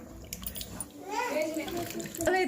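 Water poured into a pan of Guntur-style tamarind fish curry gives a rushing, splashing pour over a couple of seconds, with a voice talking over it.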